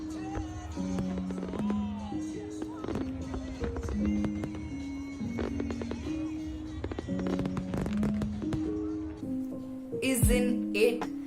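Fireworks bursting over a bridge in Busan, with repeated pops and crackles at a distance under a bed of music-like tones, ending in a denser flurry of bursts.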